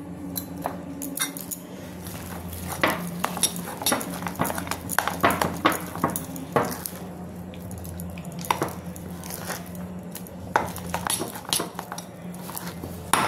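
Fermented batter for Bengali endori pitha being stirred with a spoon in a bowl, giving a run of wet, clinking scrapes and drips at close range, steady and uneven over a low kitchen hum.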